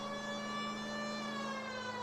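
A police car siren wails steadily in the video game LA Noire Remastered, a sustained tonal whine with bright harmonics that holds its pitch throughout, moderately loud with no talking.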